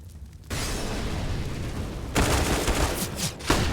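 Gunfire exchanged through a doorway on the Dust2 map in Counter-Strike, with dense bursts of rifle fire, an AK among them, and sharp louder cracks near the end, continuous and close.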